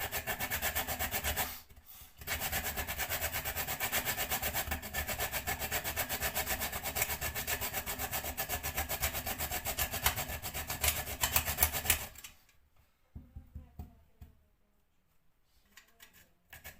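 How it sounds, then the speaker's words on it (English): Nutmeg grated by hand while baking banana blackcurrant muffins: steady, close rasping strokes scrape on for about twelve seconds with one short pause, then stop, leaving a few faint clicks and handling sounds. "So we're going to continue with the grating of the nutmeg."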